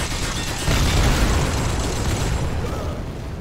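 TNT goes off in a tank video game, a loud, broad blast that swells and then rolls on as a sustained rumbling roar without any voices.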